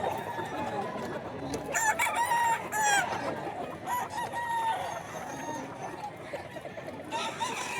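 A rooster crows among gamecocks kept at a farm in Bocaue, with repeated crowing calls over a busy, noisy outdoor background of other birds and faint voices.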